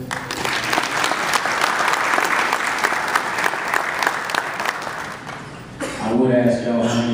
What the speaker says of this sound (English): Round of applause for both legs.